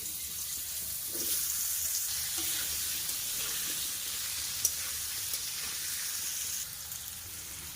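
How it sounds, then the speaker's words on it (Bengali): Potatoes fry in hot oil, sizzling steadily with a bright, crackling hiss, a brief clink sounding midway before the frying quiets slightly near the end. "এবার আলুগুলোকে লাল লাল করে ভাজা করে নেব।"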